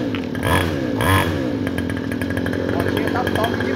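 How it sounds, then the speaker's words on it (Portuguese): A mini motorcycle's small engine revs hard and buzzes loudly up close, with two sharp rising surges early on before settling into a steady raspy drone, while someone talks over it. "nada grita mais do que essa motinha"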